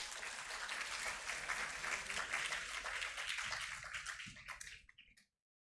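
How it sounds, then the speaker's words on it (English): A seminar audience at a closing ceremony gives a big round of applause, dense, fairly quiet clapping that continues steadily, then thins to a few scattered claps and stops. "Big round of applause."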